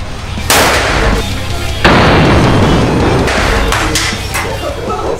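A Desert Eagle pistol chambered in .50 Action Express fires two very loud, sharp shots about a second apart, each followed by a long booming, echoing tail.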